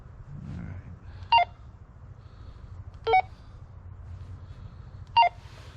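Three short electronic tone bursts, evenly spaced about two seconds apart over a low hiss, as a VHF/UHF radio keys up and hits a repeater.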